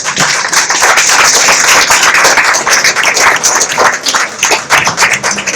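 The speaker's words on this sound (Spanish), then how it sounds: "también os pedimos, por favor, un fuerte aplauso" Loud, dense applause from a crowd, continuous clapping that stays strong throughout.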